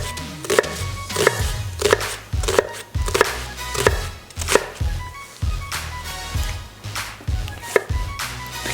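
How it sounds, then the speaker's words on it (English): A sharp knife chops food into strips on a cutting board in a steady, even rhythm of crisp taps, about two per second, close and clear with no talking. "Then we're gonna just cut strips straight up and down."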